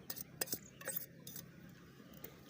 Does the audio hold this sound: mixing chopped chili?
yes